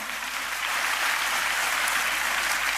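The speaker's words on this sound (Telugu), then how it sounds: "ఒక్కసారి ఆయన నిమిత్తమై ఒక్కసారి చప్పట్లు కొడతారా?" A church audience gives a sustained round of applause, dense and even clapping that fills the space without a break.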